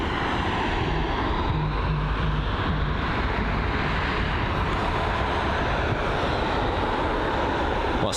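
A Virgin Atlantic Boeing 787-9 Dreamliner departs from runway 09 right at London Heathrow: a loud, steady jet engine roar fills the whole stretch, a broad continuous rumble without voices.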